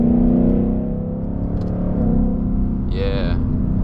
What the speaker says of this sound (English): that was about 3/4 throttle. It put me in 4th gear.